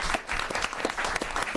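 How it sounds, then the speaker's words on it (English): A room of attendees at a community forum gives a brief, lively round of applause, dense close clapping with a few sharper individual claps standing out. "Round of applause for everybody."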